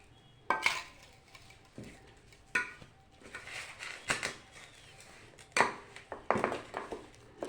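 Rice flour dough for saaj pitha is kneaded by hand with warm water in a bowl, bringing sporadic metallic clinks and knocks against the dish between soft, quiet squishing.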